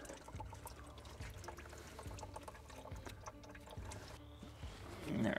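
Motor oil draining from a GMC 3.0L Duramax diesel into a pan, a steady trickling pour with soft recurring thumps, close and fairly quiet, growing louder at the end.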